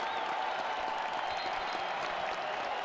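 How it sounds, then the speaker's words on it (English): Basketball crowd at a Louisville Cardinals home game against the Miami RedHawks, a steady broad roar of cheering and applause that holds at even loudness throughout, with no break. "this crowd is into it"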